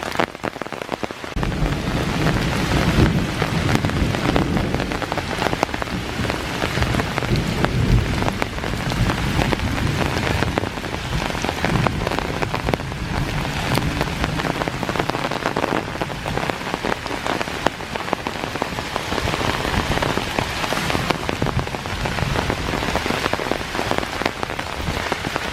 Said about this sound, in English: I was hoping to beat the thunderstorm, but it started earlier than I thought it would.